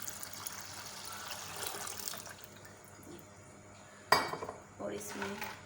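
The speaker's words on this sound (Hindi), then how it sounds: "तो अब मैं इसमें मज़ीद पानी ऐड करती हूँ" Water is poured into tamarind pulp while making golgappa water, with a splashing pour, clinks of a utensil against the dish, and soft kitchen clatter.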